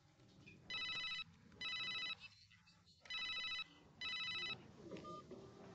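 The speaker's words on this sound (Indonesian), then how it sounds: "Ada telepon nih." A telephone rings with an incoming call, four bright electronic trills in an even rhythm, fairly loud over a quiet room.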